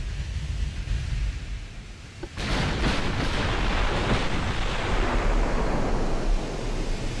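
15-inch naval shells splash into the sea during a battle in the warship game Ultimate Admiral: Dreadnoughts: a quieter, low rumble breaks into a sudden loud, sustained roar of rushing water that continues to the end.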